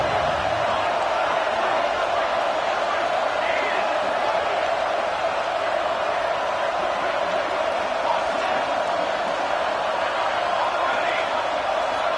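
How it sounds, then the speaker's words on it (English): A college football stadium crowd roars on a third-down play, a loud, steady wash of cheering and shouting that holds for the whole stretch, with no single voice standing out. "Third down and the crowd really getting into it."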